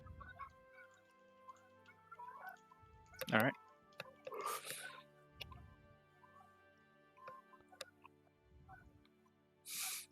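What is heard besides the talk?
geese in game session ambience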